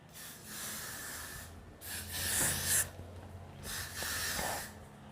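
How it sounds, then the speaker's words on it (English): Several short hissing bursts of Got2b Freeze hairspray, sprayed close by onto sleeked-back natural hair, with pauses between them over a low background hum. "Then I go through it again with the Got2b Free spray on top."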